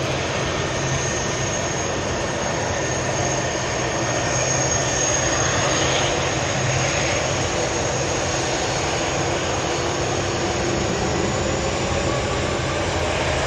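An Airbus A330-200 airliner taxiing at Manchester Airport gives a steady, loud jet-engine roar and whine that holds unchanged throughout, with no voices over it.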